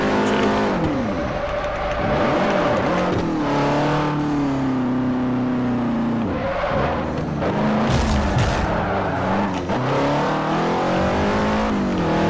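A modified, non-stock race car engine in Forza Motorsport 4 revs hard and continuously, pitch climbing through gears and dropping on shifts, loud and close with no talking.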